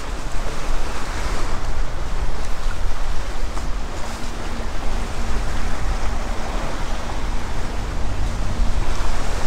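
Rough ocean surf washing against the shore in bad weather, a loud, continuous wash of waves with heavy wind buffeting the microphone, no voices.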